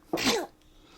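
A single close, sharp sneeze bursts out and fades within half a second, with quiet room tone after and no talking, heard during a gaming session.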